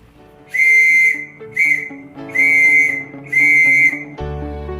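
A clear whistle sounds the Morse letter Y: long, short, long, long, four bright tones separated by brief gaps, close and alone.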